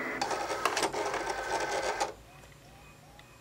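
A Cricut Explore cutting machine loads a mat carrying cardstock with a close, whirring mechanical buzz and rapid ticking for about two seconds, then goes quiet.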